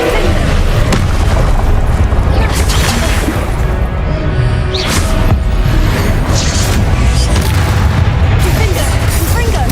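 Confringo explosion spells in Hogwarts Legacy during a busy duel, loud repeated booms and crashes layered densely over one another amid continuous combat noise with no pause.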